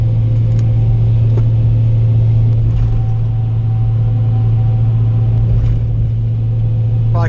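A leveled truck on Mud Grappler tires rolls over uneven pavement, with a loud, steady low drone of tire roar and road rumble that fills the whole stretch, heard from inside the cab without talk.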